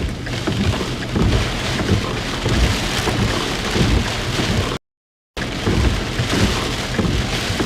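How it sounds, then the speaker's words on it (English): Heavy rain pours down in sheets during a severe thunderstorm with a tornado warning in Minnesota, a dense, steady roar with no pause for a brief break midway. "Yeah, there's pouring rain."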